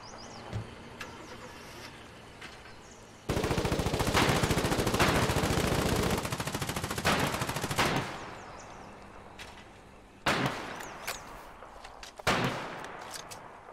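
Loud sustained bursts of rapid automatic gunfire in a military shooter game, a long dense volley followed by shorter bursts, with vehicle noise in the background.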